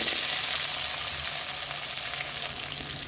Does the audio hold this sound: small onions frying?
yes